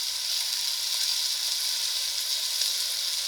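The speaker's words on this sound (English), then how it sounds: "I want as much of the beef kind of touching the pan so that we can get it lightly browned" Ground beef browns in a pan for an Italian meat sauce, giving off a steady, dense sizzle that holds at an even level throughout, with no voices over it.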